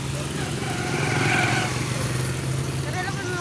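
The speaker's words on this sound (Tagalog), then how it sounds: "Karon ra mo kitag motor nga moandar." A motorcycle engine runs steadily nearby, a constant low drone with a higher whine on top, holding a fairly loud even level throughout.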